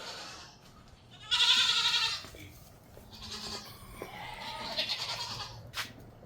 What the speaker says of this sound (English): The goats are mad at me.